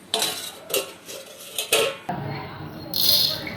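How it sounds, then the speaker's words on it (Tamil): A plate is set down over a pot of stingray fish curry with a few sharp clanks and clatters of crockery against metal, close and clear, followed by a brief sizzling hiss. "தட்டை போட்டு மூடிடலாம்."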